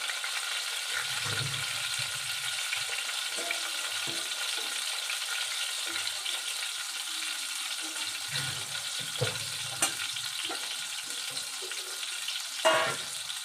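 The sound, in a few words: eggplant frying in oil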